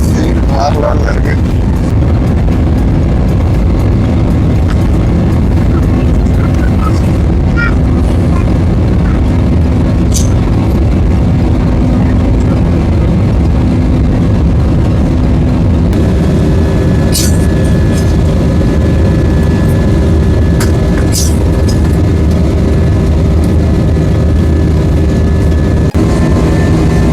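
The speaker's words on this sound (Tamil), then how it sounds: "டேக் ஆஃப் ஆகிடுச்சு." A Scoot Airlines passenger jet's engines roar steadily through takeoff, heard from inside the cabin as a loud, continuous low rumble that holds throughout. A voice speaks over it.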